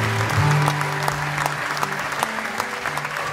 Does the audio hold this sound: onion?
no